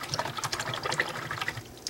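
A paintbrush used for acrylic painting is swished and rinsed in water, making close, irregular sloshing and dripping splashes that continue steadily.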